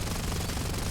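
A 7.92 mm machine gun on a Bf 110 G-2 in War Thunder fires in a dense, continuous close-range burst, loud and heard alone for about a second.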